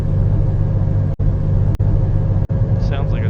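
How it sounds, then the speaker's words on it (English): A truck engine rumbles low and steady in Vampire: The Masquerade – Bloodlines, a continuous heavy drone with brief gaps and a faint voice near the end. "Sounds like a truck."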